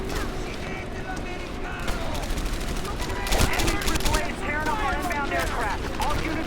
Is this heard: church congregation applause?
no